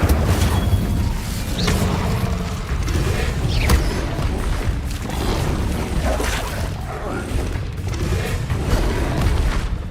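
A fire spell cast in the Hogwarts Legacy video game, with dense, continuous game audio: booming, crackling blasts and rumbling effects layered throughout, loud and steady with no clear pause.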